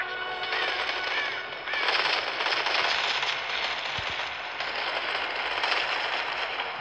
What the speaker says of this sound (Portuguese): Dá uns tiros aqui.